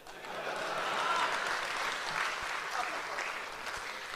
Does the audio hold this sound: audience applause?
yes